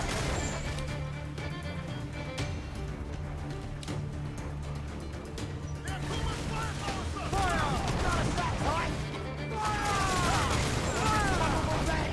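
Ship cannons boom in a pirate naval battle in Assassin's Creed IV: Black Flag, a rapid volley of heavy blasts followed by crashing impacts and debris, with voices talking over the barrage.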